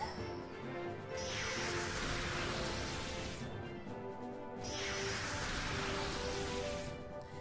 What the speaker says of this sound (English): It's supposed to sound like rain or something is falling, but it sounds more like grease, like sizzling on a pan, really.